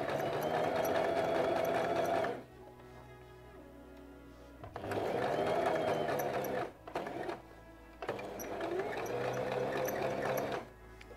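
A sewing machine runs a sweater's shoulder seam in three sustained whirring bursts of stitching, close and steady, separated by short quiet pauses with faint handling noises.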